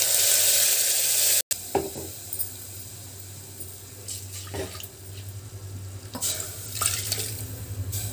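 Dal tipped into a hot pan of sizzling tempering with curry leaves and vadiyam, a steady crackling fry with brief stirring clatter, close and alone with no voices.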